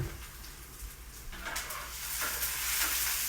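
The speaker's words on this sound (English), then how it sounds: "I'm going to use my wooden spoon to push it all around" Chopped onion and garlic sizzle in a hot pan while a wooden spoon pushes them around, a steady close frying hiss with soft scraping strokes that grows louder toward the end, with no voices.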